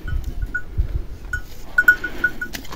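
A goat in poor condition bleats in short, thin cries, several brief calls close by with pauses between, over low rustling and handling noise outdoors.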